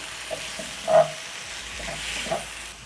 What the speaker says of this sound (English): That is 1 large tomato which I've grated. Stir in.